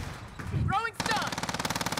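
Video game gunfire starts with a few scattered shots, then becomes a loud, steady automatic burst of rapid, evenly spaced rounds.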